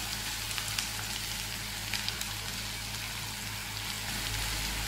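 Sliced onions with garlic and ginger fry in hot oil for a homestyle chicken curry, a steady, soft, even sizzle with no voices.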